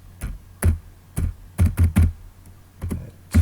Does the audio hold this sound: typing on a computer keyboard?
yes